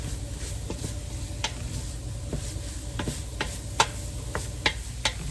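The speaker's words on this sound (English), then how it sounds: "you want to get this nice and toasty, all those spices in there that are coating the meat and the peppers and the onions" Chili meat, peppers, onions and spices sizzle steadily in a pan, a constant frying hiss punctuated by scattered sharp clicks and scrapes of stirring.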